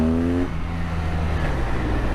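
A 2021 BMW R nineT motorcycle engine revs up and then settles into a deep, throbbing idle, close and loud with no talking.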